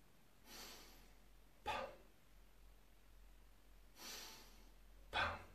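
Slow human breathing close to the microphone, with two soft, drawn-out breaths alternating with two sharper, louder intakes or exhales in a steady cycle over a quiet background and no talking.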